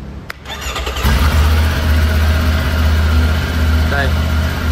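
A Triumph Tiger 900 motorcycle engine cranks and catches with a short start burst, then settles into a steady, loud, close idle that runs to the end, with a brief faint squeal near the finish.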